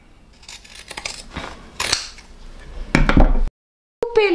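Scissors snip away excess fabric near a sewn seam on a handmade Christmas-tree drawstring pouch, giving a series of crisp close cuts before a brief silence and a short voice.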